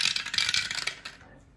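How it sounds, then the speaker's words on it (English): Dice rattle and clatter across a surface for about a second, close and distinct, then settle into quiet. "So I'm going to do this and roll the dice."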